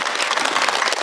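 Studio audience applause at a Kyrgyz TV show, a dense steady patter of many hands clapping loudly and evenly throughout, with no voices.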